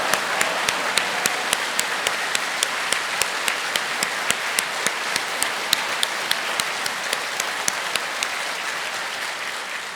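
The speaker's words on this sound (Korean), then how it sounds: "박수." A standing congregation claps at a Korean church evening prayer meeting, a full, continuous round of applause with sharp individual claps standing out at a fairly regular pace.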